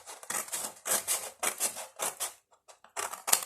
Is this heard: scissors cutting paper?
yes